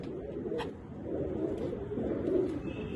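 A Malwai pigeon coos in low, soft, throaty bursts, repeating steadily close by over a faint background hum.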